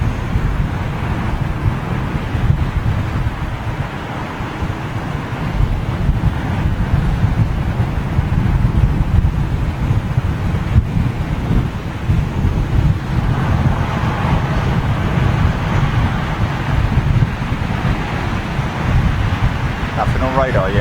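Strong, gusty crosswind of around 20 knots buffets the microphone at an airport runway edge, making a constant low roaring rumble that swells and eases throughout.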